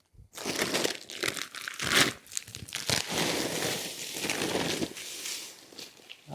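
A paper feed bag of beet pulp being torn open by hand, close crinkling and rustling with sharp crunches and rips in irregular bursts.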